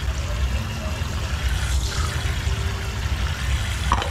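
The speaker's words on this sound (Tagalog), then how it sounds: "Ayan, lalagyan ko ng tubig." Water is poured onto potted ferns, a soft, steady trickle and splash running for a few seconds at moderate volume.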